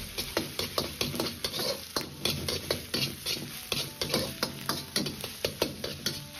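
Minced pork stir-fried with Pixian doubanjiang in a wok, heard as a rapid, rhythmic series of spatula scrapes and clacks against the metal over a soft sizzle, close and fairly quiet.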